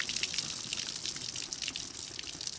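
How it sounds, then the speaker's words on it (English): Water from a jug hit by a rifle shot splashes and gushes outdoors in a steady hissing spray that lasts the whole moment, fairly close, with no voices. "the water didn't splatter back as far as I thought it would"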